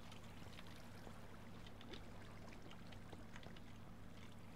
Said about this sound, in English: Why is there water dripping down?